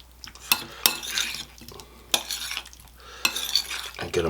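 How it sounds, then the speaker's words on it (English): A utensil stirring red pepper flakes into oil in a metal pan, with repeated scraping strokes and sharp clinks against the pan, close and fairly loud, and no voices. "we are just going to stir these together until it's evenly spread"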